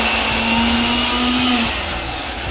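Mixer grinder grinding soaked lentil paste for vadi, a loud steady whirring drone with a constant motor hum that eases slightly toward the end, heard alone.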